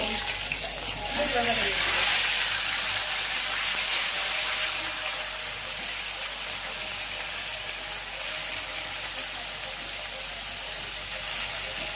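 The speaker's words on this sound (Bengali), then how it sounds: "এখন বাটা মাছগুলো ভাজতে দিয়ে দিলাম" Bata fish frying in a pan, a steady broadband sizzle and hiss that holds throughout with a slight swell early on, close and continuous with no talk over it.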